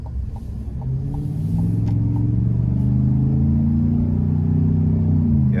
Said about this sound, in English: I love the sound you get from this exhaust.